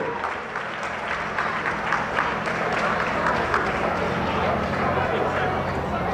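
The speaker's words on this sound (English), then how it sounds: "give a round of applause to the people that responded to that" Crowd applause at a race event after a crash where the driver was unhurt, a broad sustained wash of clapping heard alongside ongoing speech over a loudspeaker.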